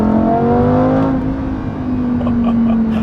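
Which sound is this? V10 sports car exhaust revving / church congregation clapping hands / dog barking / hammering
V10 sports car exhaust revving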